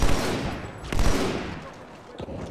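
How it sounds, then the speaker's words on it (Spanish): Sniper rifle fire in the Halo 2 Anniversary campaign, a couple of loud, sharp shots with a booming tail that echoes into the game's battle ambience. "El sniper sonaba bien genial aquí,"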